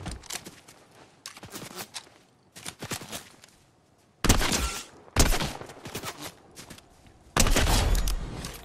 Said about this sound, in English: Someone's got a Piao Piao rifle.